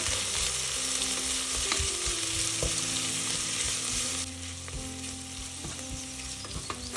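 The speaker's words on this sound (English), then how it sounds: "Fry the onions until they are translucent" Whole spices with sliced onions frying in a pot for mutton yakhni pulao give a loud, steady sizzle and crackle that fills the whole stretch, with occasional stirring knocks and no voices.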